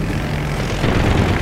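Propeller airplane droning overhead in the Medal of Honor Warfighter video game after being hit by an RPG, a steady low rumbling engine hum that swells slightly toward the end, with no talk.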